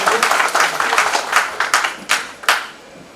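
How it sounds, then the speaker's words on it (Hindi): A crowd at a foundation day event claps in a brief burst of applause, dense at first and then thinning into scattered individual claps. "इन लोगों के लिए भी एक बार जोर से ताली बजनी चाहिए"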